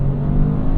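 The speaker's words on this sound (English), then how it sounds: "Just being able to rev it out, feeling all the power is so much fun in this car." A Toyota GR Corolla engine revs hard in a short, loud, close burst of steady growl.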